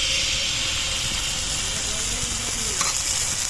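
Rice batter poured into a hot clay mould for chitoi pitha gives a loud, steady hiss-and-sizzle that holds evenly throughout, with a faint brief crackle near the end.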